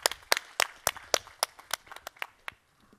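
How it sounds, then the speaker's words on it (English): Sparse clapping from a small audience at a talk on digital technology and creativity: a dozen or so distinct, evenly spaced claps, fairly close and quiet, fading out with no voices. "Give her a big round of applause, please."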